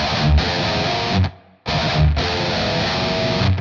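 A heavily distorted electric guitar plays loud sliding major-third dyads in a driving rhythm, with a brief drop to near silence midway before resuming.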